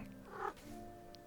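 Cat meowing in the puzzle video game A Little to the Left, a short bright cry near the start over a soft steady background hum, followed by a faint chirp.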